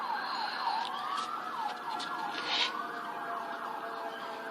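An emergency vehicle siren wails nearby, rising and falling in a quick repeating sweep, fairly loud and steady over faint traffic noise.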